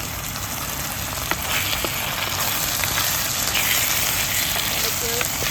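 Fish fries for a chutney in hot oil, giving a steady, loud sizzle with occasional soft scraping as the pan is stirred.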